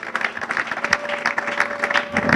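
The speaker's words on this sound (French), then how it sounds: "applaudissez pour les 2 parrains et la marraine" Guests at an art exhibition opening in Lubumbashi clap for the event's sponsors, a close, lively burst of uneven hand claps from a modest crowd, with a faint steady tone humming underneath.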